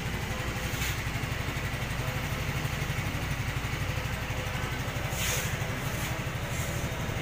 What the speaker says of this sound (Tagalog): ang ganda ng tunog ng Mio Gear